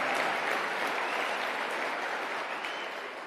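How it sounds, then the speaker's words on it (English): Audience applause at a political speech, a dense burst of clapping from a crowd, steady and fairly loud, slowly fading over a few seconds. "I'll take some applause on that."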